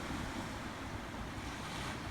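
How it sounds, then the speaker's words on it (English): Lake waves wash against the shore of a great lake, a soft, steady broadband surf with wind noise, faint and distant-sounding, no voices. "You can hear water striking the shore."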